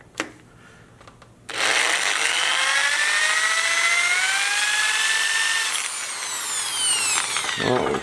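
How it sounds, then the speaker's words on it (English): Power drill boring into a wooden shaft while replacing a dowel at its tip, starting abruptly after a quiet moment, holding a loud whining drone with rising pitch, then dipping briefly before continuing near the mic. "I'll try and drill that just a little bit more"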